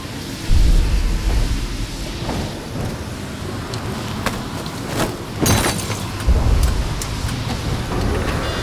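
Steady rain with rumbling thunder in the Call of Duty: Ghosts mission Atlas Falls, a constant wash of downpour broken by a few sharper thunder cracks and low booms, with no talk during the clip.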